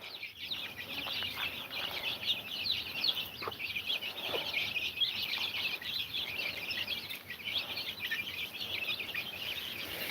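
Hen with chicks out in the yard, a constant chorus of high, rapid chick peeps with occasional low clucks from the old hen, moderately near and steady throughout.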